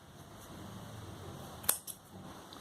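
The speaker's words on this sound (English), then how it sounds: "snip off this yarn" Scissors snipping off crochet yarn after finishing fingerless gloves, a single close, crisp snip followed by a softer second click against a quiet background.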